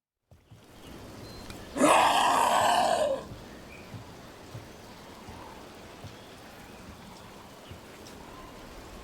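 Steady rain falls in a Dragon Age The Veilguard game scene, a soft continuous hiss with scattered drops throughout, broken early by a brief loud groaning vocal sound.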